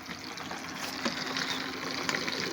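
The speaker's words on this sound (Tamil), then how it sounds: "நல்லா கொதிக்குதுங்க" Water bubbling at a steady rolling boil in an electric pot, a continuous close hiss and gurgle with occasional louder pops.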